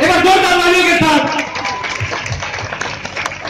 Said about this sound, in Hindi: यस एक बार जोर तालियों के साथ